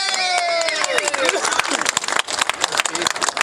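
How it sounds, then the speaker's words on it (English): A crowd at a Hot VWs DKP car cruise night breaks into applause and cheering, with a dense burst of clapping and whoops. A few whistles open it, and loud voices call out over the clapping. "One more big round of applause!"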